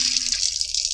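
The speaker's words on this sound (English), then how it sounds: "Rinse your pot so it doesn't got no vinegar left in it." A cooking pot rinsed under a running kitchen tap, a steady close hiss of flowing water with a light splashing texture and no talking.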